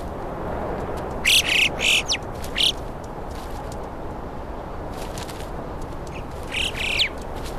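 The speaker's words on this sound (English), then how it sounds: "The alpine chough can be found in the Asian highland Taklamakan desert region, as well as the Balkans, Pyrenees, and the northeast African Atlas Mountains." Alpine choughs calling in the Swiss high mountains, several sharp squawking calls in short clusters over a steady wind-like background, fairly close and clear.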